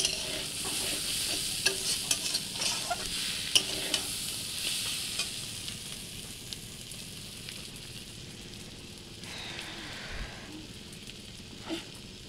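Maggi noodles frying and being stirred in a saucepan over heat, a steady close hiss and sizzle with scraping stirring strokes throughout, easing slightly toward the end.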